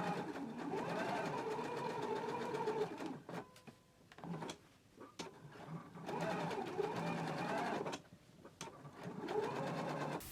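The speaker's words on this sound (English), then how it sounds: "Let's baste the lining to the fabric now." A sewing machine stitches a basting line joining a jacket's lining to its fabric along the raw edges, running steadily in long continuous bursts with a few short pauses.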